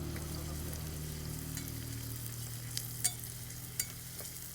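Finely chopped medium onion sizzles softly in a pan for Punjabi sarson ka saag, a quiet steady frying hiss under a low hum, broken by a few sharp scrapes and taps of stirring.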